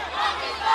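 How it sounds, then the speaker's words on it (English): A Pakistani crowd at an MMA fight roars and chants in a short, loud, sustained swell of many voices, steady and close. "the crowd behind us so excited. The chants have come alive."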